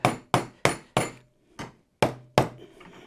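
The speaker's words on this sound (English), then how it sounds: "I'm just going to hammer it closed" Hammer blows drive a glued, epoxied wood joint closed, face side to face side: seven sharp, close thumps in an uneven rhythm, each ringing briefly before the next, with a softer strike in the middle and no talk.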